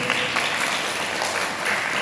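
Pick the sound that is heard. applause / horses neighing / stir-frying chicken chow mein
applause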